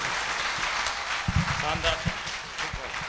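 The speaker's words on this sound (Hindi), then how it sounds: "एक जोरदार ताली, फिर से जोरदार ताली दोस्तों" Loud audience applause fills a hall at a motivational seminar, dense and continuous clapping with a voice speaking over it.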